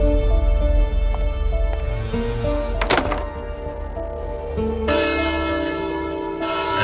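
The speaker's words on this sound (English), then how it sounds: "thus the bell is ringing." Deep church bell tones ring on and on from a bell tower, heavy and sustained, with a sharp metallic clang near the middle and the hum of overlapping resonance throughout.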